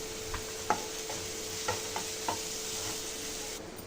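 Onions frying in a pan until golden brown give a steady soft sizzle, broken by a few sharp scraping taps of a spoon stirring them.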